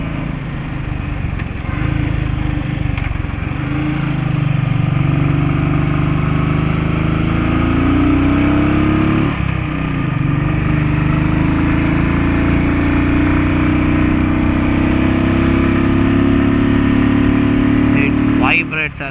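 A Royal Enfield Thunderbird 350 single-cylinder motorcycle holds a steady, loud engine drone with rising and falling pitch sweeps as it revs above 4000 RPM, close up throughout.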